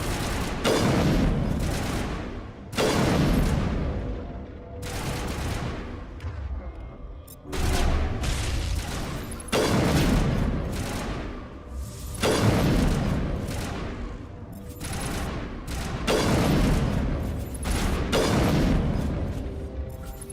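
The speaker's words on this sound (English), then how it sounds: "Damn critter grenade." Critter grenades detonate in a video game, a string of about eight heavy booming blasts at roughly two-second intervals, each with a rumbling tail, loud and close.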